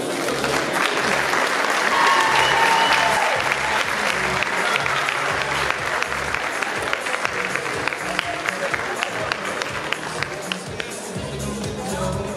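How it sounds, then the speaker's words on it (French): A crowd applauds steadily at a jersey presentation for a women's team, a long wash of many hands clapping, loud and sustained, with a few sharper claps standing out as it slowly thins. "Merci pour vos applaudissements."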